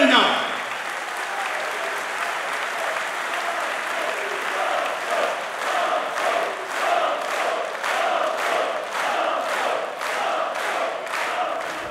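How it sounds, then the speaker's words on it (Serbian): Thunderous applause and ovations from a crowd at a political speech in Trebinje, a dense, loud wall of clapping that grows into rhythmic, pulsing beats in unison, with voices mixed in. "Gromoglasni aplauzi i ovacije prekidali su govor nekoliko puta"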